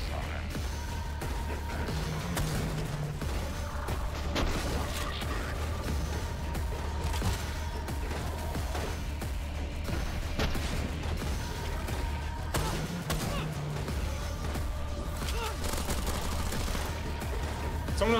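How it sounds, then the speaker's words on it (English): Gunfire in the video game SPRAWL: repeated sharp shots crackle steadily across the whole stretch over a constant low rumble of game ambience, with a voice briefly talking underneath. "Someone else shooting me."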